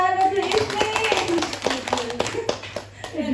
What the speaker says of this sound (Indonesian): tepuk tangan buat Bu Ismi